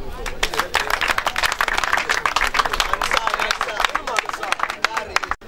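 Sustained applause from a crowd at a customary wedding, dense clapping filling the whole stretch with a murmur of voices underneath.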